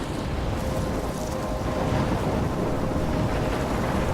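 A thunderstorm in Life is Strange, a steady, dense roar of wind and rain with low rumbling thunder, loud and continuous throughout with no distinct pauses.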